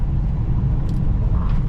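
Perodua Viva 1.0 Elite EZ automatic from 2013 driving along a road, a steady low engine and road rumble heard from inside the car, continuous and fairly loud with no talking.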